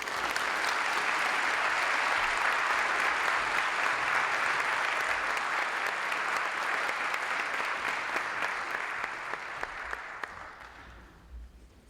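An audience in a lecture hall breaks into warm applause as the speaker Dr. Scott Samuelson is welcomed, steady clapping holding for about ten seconds before fading out.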